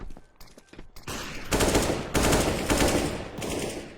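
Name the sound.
gunshots in a video game match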